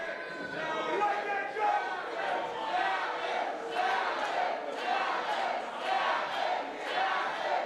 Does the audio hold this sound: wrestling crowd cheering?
yes